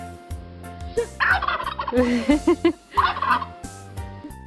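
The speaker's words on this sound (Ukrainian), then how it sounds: "Поглянемо на індика" A turkey gobbles loudly and close by, several rapid warbling bursts in a row against a steady background.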